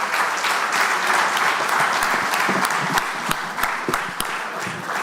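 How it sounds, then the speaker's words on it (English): Audience applause for a panel of speakers at a live music-industry discussion on copyright and creativity: a loud, dense continuous clapping roar, with a few sharper individual claps standing out as it carries on. "let's have a round of applause for our panelists."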